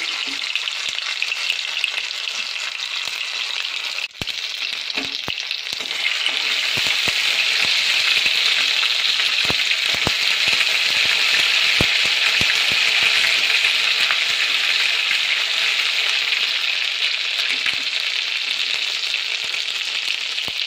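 Ginger and garlic paste fries in a hot pan for chicken, a dense continuous sizzle that grows louder partway through, with scattered stirring clicks and scrapes.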